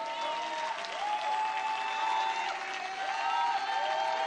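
A church congregation claps during a worship service, steady sustained applause at moderate level with a sung or sustained tone running beneath it.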